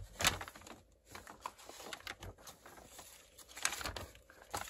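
Scissors cut paper for a vintage Christmas folio envelope, with close, faint crisp snips and rustling paper handling scattered irregularly over a quiet background.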